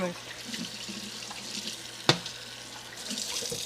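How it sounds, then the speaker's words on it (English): A fork being rinsed under a running kitchen tap, with a steady soft rush of water and a single sharp metallic clink midway, fairly quiet, with faint voice in the background. "Let me rinse this off."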